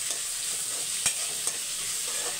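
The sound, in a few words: ginger garlic paste frying and being stirred in pan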